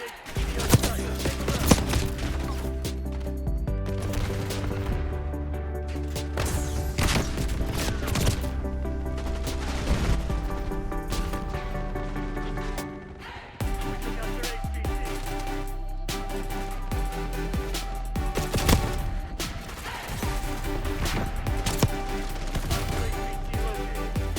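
Dense, continuous gunfire and bursts of automatic fire from the Call of Duty Warzone video game, layered with heavy game audio and thumps throughout, without talk.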